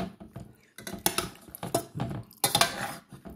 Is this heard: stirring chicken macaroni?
yes